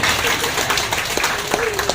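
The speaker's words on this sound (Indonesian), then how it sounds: "Kita tepuk tangan dulu." Clapping from a crowd gathered under a tent at a campaign event, brief and fairly close, mixed with a busy murmur of talk and a faint engine-like hum beneath.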